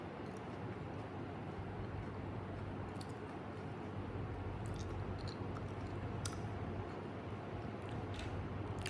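Crispy jhalmuri, a puffed-rice snack, being chewed close up with a steady, continuous crunching texture over low background noise, with no talking.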